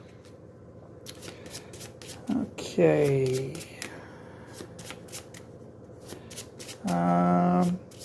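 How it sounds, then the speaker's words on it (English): Eldritch Horror clue cards shuffled by hand in two distinct riffles with a bridge between them, close and crisp, with a quiet voice speaking briefly between the shuffles. "I will shuffle this."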